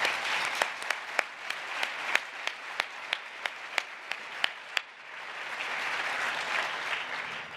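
Luncheon guests at an awards event clap in a room. About a dozen distinct, spaced hand claps stand out over a softer bed of applause, which then settles into continuous, even clapping that lasts to the end.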